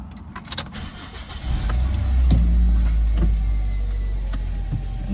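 A car being started for a test after repairs, with a low engine rumble that swells around two seconds in and settles into a steady close idle, plus a few small mechanical clicks and no talking.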